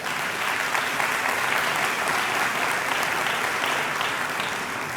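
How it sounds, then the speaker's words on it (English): Seneca graduation audience in a hall giving faculty and staff a big round of applause: thick, continuous clapping from many people, level and sustained throughout. "Let's give them a big round of applause as well."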